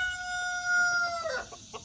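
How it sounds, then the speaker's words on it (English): A rooster crows once on a farm, a clear drawn-out call close by, followed by a few softer clucks from the flock. "we've got like, I don't know, 5 or 6 roosters that are mature enough to start crowing"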